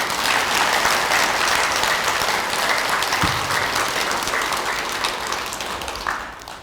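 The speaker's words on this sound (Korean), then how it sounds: "우리 광덕 큰 스님한테 박수 한번 칠까요?" A hall of listeners at a Buddhist dharma talk claps for a senior monk, a loud, dense burst of applause that holds steady and then gradually thins and fades toward the end.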